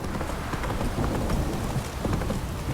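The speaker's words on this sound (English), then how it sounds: "If it don't stop raining, my arse will rot off." Steady rain falls in The Witcher 3: Wild Hunt, a dense, close hiss of drops with low rumbling underneath, continuous and fairly loud with no voices.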